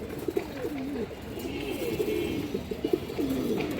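Several restless pigeons coo in overlapping, rolling phrases nearby, steady and moderately soft against a constant background hiss, with no voices.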